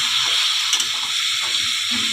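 Chicken pieces frying in a hot pan for chilli chicken, a steady close sizzle running continuously under light stirring clatter.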